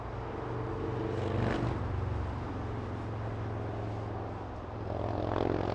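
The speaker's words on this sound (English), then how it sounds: "We have a cool Max exiting the runway right now" A Boeing 737 Max jet taxis off the runway at LAX, its engines producing a steady, moderately loud broadband rumble and whine at a distance that holds throughout, with no talking.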